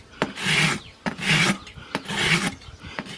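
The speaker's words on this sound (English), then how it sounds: "I'm going to leave this rasp flat, but I don't want to hit this heel over here either" A farrier's rasp files down a horse's hoof wall during a trim, giving three slow, even, loud scraping strokes close by, each a coarse rasping sweep separated by short pauses.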